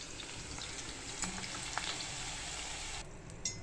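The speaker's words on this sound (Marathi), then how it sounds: "हे बघा, अशी आपल्याला भेंडी तळायची ही।" Okra sizzles and crackles steadily in hot oil in a pan, a close, continuous frying hiss with no voices.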